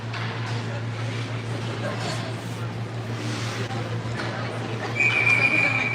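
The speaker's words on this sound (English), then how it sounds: "Whistles are going." A referee blows a sharp, sustained whistle at a girls' ice hockey city final game, a single piercing blast near the end of the clip over a steady arena hum and crowd murmur.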